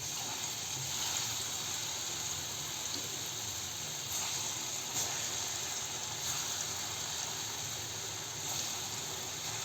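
Mung dal fritters (bhaji) deep-fry in very hot oil in a kadai, giving a steady, even bubbling hiss with faint clicks now and then. It stays moderately loud and unbroken, with no voices.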